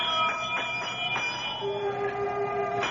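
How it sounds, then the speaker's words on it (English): An old pull bell on the great door of a house rings out in a series of bright, resonant strikes that hang and fade, with a lingering metallic tone toward the end. "I reach out and pull the bell."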